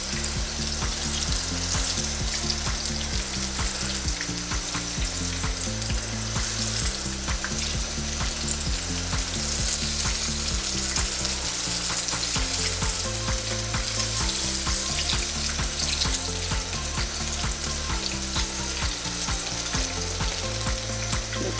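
Cauliflower pakoras frying in hot oil, a loud, continuous close-up sizzle with frequent small crackles and soft knocks as the pieces are turned one by one, and no talking.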